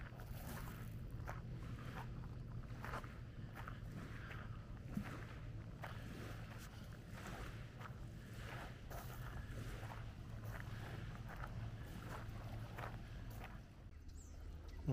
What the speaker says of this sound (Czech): Je tady akorát slyšet ty motory lodí